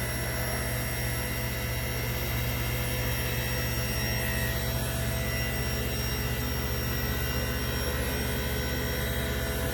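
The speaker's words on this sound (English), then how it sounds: "I'll move the Z motor up." The Z motor of an MTI STX-1202 saw runs with a steady, even whirring drone that holds constant and fairly loud from start to finish, with no voices.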